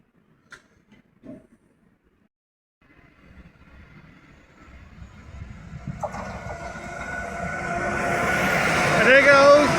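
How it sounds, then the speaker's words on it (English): Belgian Class 77 locomotive hauling a train past at Schaerbeek, Brussels; after a few quiet seconds with faint knocks, a rumbling approach builds steadily louder, with rising rail noise and squealing wheels near the end, and no talk. "this train's gonna block my way. But glad to see the Class 77"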